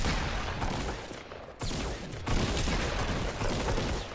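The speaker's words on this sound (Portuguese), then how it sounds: "Todo mundo é tiro." Fortnite Battle Royale gunfire, dense overlapping bursts of shots and booms in a continuous barrage, loud and close, with sharp sudden volume jumps.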